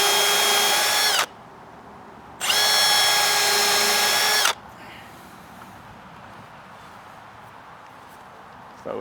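Two bursts of a power drill driving screws into wood during an outdoor sauna build, loud and close, the first about a second long and the second about two seconds, with quiet outdoor ambience between.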